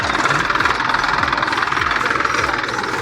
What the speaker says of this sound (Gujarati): જો આપણો ટ્રેક્ટર હાલે છે રહ્યો